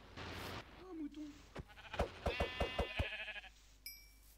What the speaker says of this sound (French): Oh, mouton!